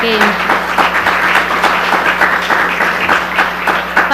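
An audience at an academic seminar on capitalism and geopolitics claps to welcome a speaker, a close, steady round of many hands with individual claps standing out rhythmically throughout.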